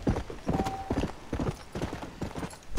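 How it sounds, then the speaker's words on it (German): Horse hooves clip-clop in a steady, rhythmic gait during riding in the video game Red Dead Redemption, moderately close and clear with a brief whinny-like tone early on. "So, wir reiten noch ein Stückchen weiter."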